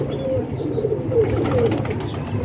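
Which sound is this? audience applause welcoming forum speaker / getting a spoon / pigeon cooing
pigeon cooing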